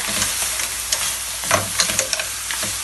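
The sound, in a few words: stirring sizzling ingredients in a pan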